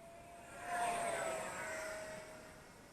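Eachine F-16 electric ducted-fan RC jet with 550mm wingspan and 50mm EDF, flying overhead as a steady, whining airborne hiss that swells and slowly fades, fairly distant.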